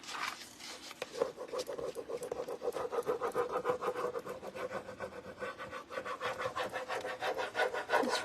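Rhythmic scraping and rasping as a wooden farmhouse cow sign is rubbed and sanded by hand, loud and continuous with steady back-and-forth strokes and no talking.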